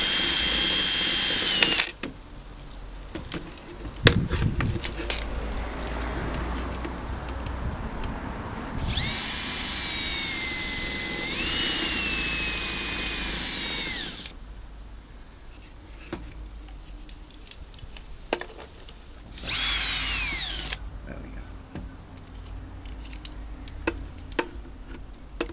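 A power drill drills out the small pop rivets on a VW T2 van interior, with two sustained high-pitched whining bursts separated by quieter clicks and handling noises, fairly close and loud.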